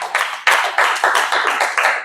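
Hands clapping at a church meeting, a handful of sharp, distinct claps in an uneven rhythm, close and fairly loud, with no talk over them.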